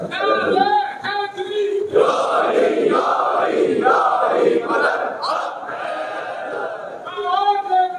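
A large congregation at a Muharram majlis in Karachi chants the Nara-e-Haidri slogan in loud, rhythmic unison. The crowd's voices swell repeatedly and hold strong throughout, with a lone leading voice heard at the start and again at the end.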